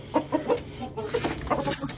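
An Aseel hen clucks in short, quick bursts, close by and fairly soft, with a few rapid notes clustered together.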